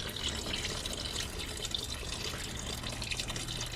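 Red antifreeze coolant draining from the water pump of a Land Rover Freelander 2.2, a steady close trickle and splash of liquid running without pause, with no talking.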